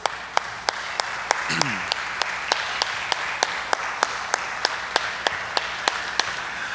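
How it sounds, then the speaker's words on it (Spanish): Congregation clapping at a Sunday church service, a sparse, regular beat of sharp claps repeating about every third of a second over a low murmur, with a brief voice near the start. "Aplaudimos a favor de las mujeres."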